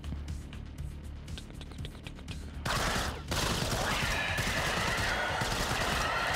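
Rapid gunfire in the first-person shooter Strafe, a dense run of sharp shots that swells into a loud, sustained barrage of blasts and chaotic combat noise.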